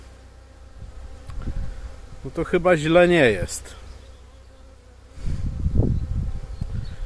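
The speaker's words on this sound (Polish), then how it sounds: "biorąc pod uwagę y, ilość pszczoły, która tam lata" Honeybees buzz around a hive entrance at a beehive, a low steady hum with a louder, rising-and-falling buzz as one flies close by, while someone speaks briefly in Polish between passes.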